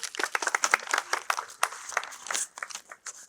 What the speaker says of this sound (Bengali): সঠিক উত্তর জোরে হাততালি